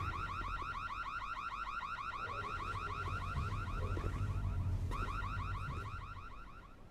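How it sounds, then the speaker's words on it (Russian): An alarm siren in the video game The Secret World, a rapid warbling electronic wail that cycles steadily and loudly throughout, with low rumbling game ambience and faint voices underneath. "Кто-нибудь выключить уже эту херовую сигнализацию"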